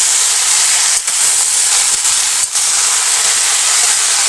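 Chopped red amaranth greens hit a hot pan in a village kitchen and set off a loud, steady hiss of steam and sizzle. It barely breaks for the whole stretch, with no talking.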